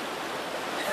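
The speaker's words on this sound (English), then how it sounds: "I am at the Hikuai river." Water of the Hikuai River in Coromandel flowing past, a steady close wash of rushing noise with no breaks over one brief second.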